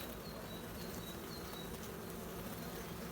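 Honeybees swarm and buzz around an open hive whose colony has gone queenless and has laying workers, a dense, steady drone close by and continuous throughout, with no voices.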